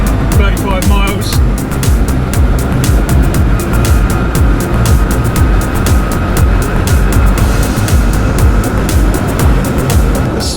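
A modified Renault Twizy electric car drives along with a loud, constant road and wind rush, rumbling and buffeting continuously, while a person talks over it.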